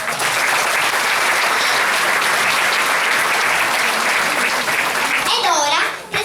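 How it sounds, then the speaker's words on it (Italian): An audience applauds warmly at an evening theatre show, with dense, steady clapping that fills the room and holds throughout, and a few voices rise briefly near the end. "applauso."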